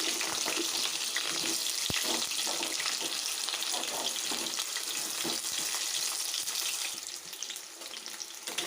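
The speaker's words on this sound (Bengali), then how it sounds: "পেঁয়াজগুলো একটু ভাজা ভাজা করি।" Onions, bay leaf and potatoes fry together in a wok with a loud, continuous hissing sizzle that eases slightly toward the end.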